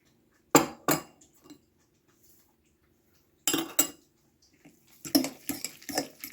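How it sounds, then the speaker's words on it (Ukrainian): A utensil clinks and scrapes against a bowl in short bursts, stirring pancake batter briskly with quiet pauses between rounds of mixing. "Також все перемішую."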